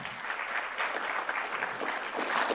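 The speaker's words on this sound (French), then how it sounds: "Et pour commencer, on peut l'applaudir" An audience at a ceremony applauds, with dense, steady clapping that keeps going for the whole stretch and is heard on its own.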